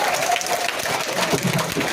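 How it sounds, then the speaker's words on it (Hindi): Children clap together in a steady burst of applause, dense and fairly loud throughout, with faint voices mixed in beneath it. "तो आप अपने लिए जोरदार तालियां बजाइए।"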